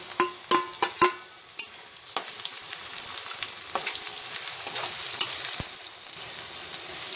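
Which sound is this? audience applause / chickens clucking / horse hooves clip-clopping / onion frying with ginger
onion frying with ginger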